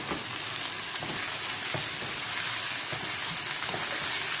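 Tomatoes hit a hot pan and fry with a loud, continuous hissing sizzle close up, joined by occasional soft stirring knocks, with no voices over it.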